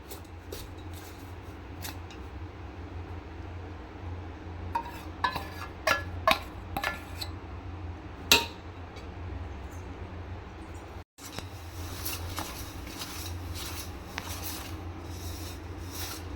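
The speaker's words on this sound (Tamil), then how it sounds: "நல்லா கிண்டிடணும்." Black urad dal laddu mixture being stirred in a pan, a steady rubbing, scraping texture with scattered sharp scrapes and taps, close and moderate in level, briefly dropping out midway before resuming.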